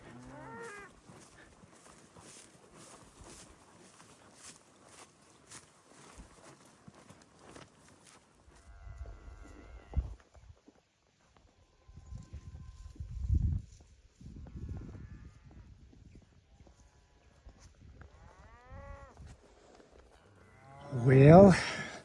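A herd of cattle on a Colorado ranch gives several low, drawn-out moos from mid-distance, one much louder close call near the end, with scattered footsteps and some quiet background between the calls.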